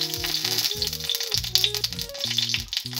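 Dried chilli sizzling in hot mustard oil in a wok, a steady bright crackle and hiss. A sustained melodic tone plays over it, with no voices.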